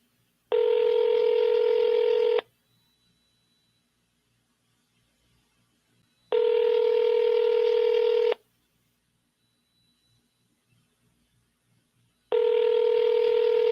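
A phone call rings out with a steady two-second ringback tone repeating at regular intervals, loud and clear with near silence between rings.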